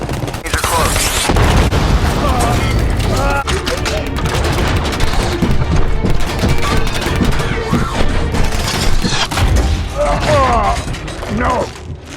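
Gunfire and explosions from a Transformers action scene, a dense loud fusillade of shots and booms running throughout, with voices shouting over the battle.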